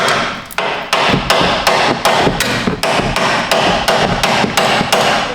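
Regular hammer pounding on a Chevy Tahoe lower ball joint, a fast run of loud metallic strikes about two per second, close and sharp with no talk.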